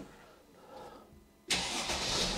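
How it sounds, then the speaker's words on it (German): Dethleffs motorhome engine starting, a brief quiet stretch and then an abrupt catch into a loud, broadband running roar that carries on to the end. "So, Motor läuft."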